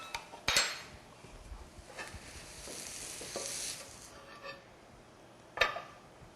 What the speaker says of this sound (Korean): 썰 수 있는 도마로 옮기겠습니다.